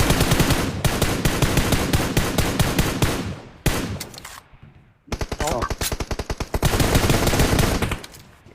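Rapid automatic gunfire in the PUBG Mobile battle royale game, loud bursts of close repeated shots broken by a short pause, with players talking faintly underneath.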